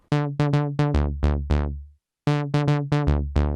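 Plucky synth bass notes from the Arturia OP-Xa plugin in a bouncy rhythmic pattern, each note decaying quickly, with a brief pause midway before the phrase repeats.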